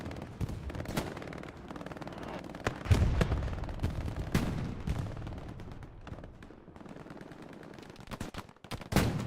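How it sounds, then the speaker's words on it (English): Dense rocket and gunfire bursts from a 49 vs 49 multiplayer war video game match, with heavy booming impacts and crackling shots overlapping almost continuously, swelling louder in places. "More and more rockets fired off from KRRC"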